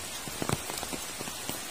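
Rain falls steadily on a slippery, moss-covered path in a remote Javanese village, a close, even patter with a few sharper drip hits and no talking.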